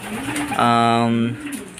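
A racing pigeon at a home loft after a fun race gives a single drawn-out coo, close and clear over faint background noise.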